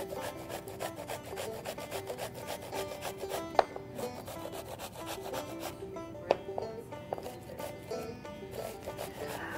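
Zucchini being grated by hand for brownies, with a steady, rhythmic rasping scrape repeating close up for several seconds and occasional sharper knocks.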